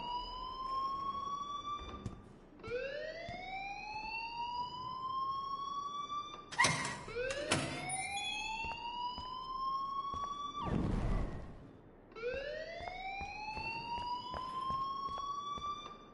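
A wailing electronic alarm in the Life is Strange video game sweeps upward in pitch over and over in a steady cycle, loud and shrill, with a few sharp bangs and a brief noisy burst partway through.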